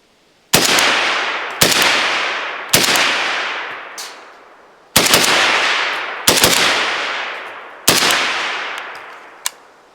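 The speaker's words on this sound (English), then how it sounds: "let's just fire a couple rounds" Six loud shots from a rifle wearing a Dead Air Sandman S suppressor, spaced irregularly about a second or two apart, each a sharp crack trailing into a long fading echo.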